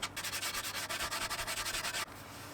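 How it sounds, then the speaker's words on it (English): Rapid back-and-forth hand sanding of sharp edges on a wooden mid-century style coffee table with snooker cue legs, a loud rhythmic scratchy rasp of about a dozen quick strokes that stops abruptly. "so I sanded those back"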